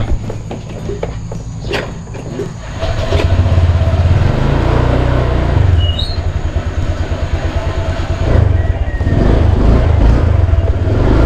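A single motorcycle ridden along a road toward a town public market in Rosario, its steady engine drone and road rumble loud and continuous, with a few sharp knocks early on and no talking.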